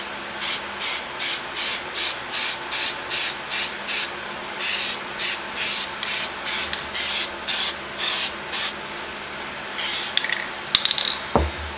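Clear coat sprayed onto a glass bottle label in a run of short, evenly spaced hissing bursts, then a longer continuous spray and a few clicks and clatters near the end, close and alone.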